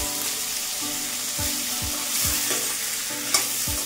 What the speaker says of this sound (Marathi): भाज्या इथं परतून घ्यायच्या आपल्याला